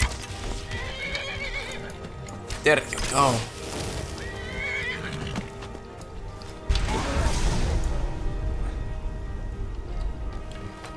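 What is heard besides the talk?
horse neighing and hooves in Skyrim video game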